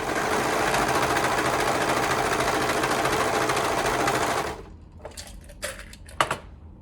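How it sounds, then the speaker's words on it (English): A sewing machine stitches a hemband seam with a half-inch allowance, running steadily and loudly for about four and a half seconds before stopping, followed by a few short clicks and handling sounds. "We can go ahead and sew that up with a 1/2 inch seam allowance."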